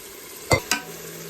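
Mutton going into a pot for biryani, with two short sizzling, scraping stirs close by, the second lighter than the first, over a low steady hiss.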